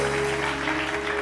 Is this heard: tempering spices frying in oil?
no